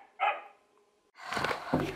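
A pet dog gives two close, sharp barks, a short one first and then a longer, louder burst after a brief pause.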